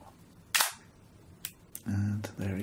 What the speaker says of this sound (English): So we cock the shutter, you can see the blinds moving there.